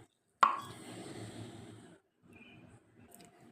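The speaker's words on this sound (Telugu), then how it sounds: "ఈ గ్లాస్తో 2 గ్లాసెస్ వాటర్ వేయాలి" Two glasses of water tipped into a pot of rice for sweet pongal, opening with a sharp plop followed by a sustained close pour, a short gap, then a softer trickle.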